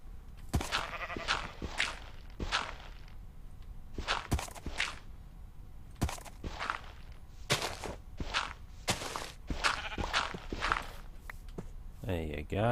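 Several short Minecraft sheep bleats recur among blocky footstep clicks, moderately close and evenly spaced.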